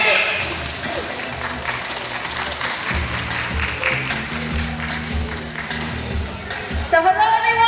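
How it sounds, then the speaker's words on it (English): Audience applause in an oceanarium amphitheater during a bird show featuring a flag-racing bird, a steady wash of clapping throughout with a brief whistle-like tone and a voice near the end. "A round of applause for our flag racing bird, Bandit"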